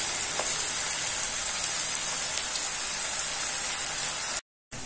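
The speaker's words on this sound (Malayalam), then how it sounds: "അപ്പോൾ സവോള ഒരുവിധം വഴന്നു വന്നിട്ടുണ്ട്" Sliced onions (savola) sautéing in a pan for a home-style fish curry, a steady close frying sizzle with a faint scrape near the start and a brief dropout just before the end.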